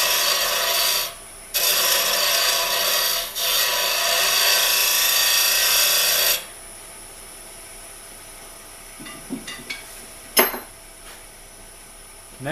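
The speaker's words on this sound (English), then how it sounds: "Plunge this right in, you can get a pretty nice cove" A carbide woodturning tool plunges into spinning wood on a lathe to cut a cove, producing loud, close rasping bursts that stop abruptly and leave a quiet hum with a few faint knocks.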